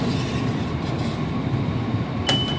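Train at Stuttgart Airport station in Germany, a steady broadband rumble of the railcar with a brief bright metallic squeal near the end, no talking.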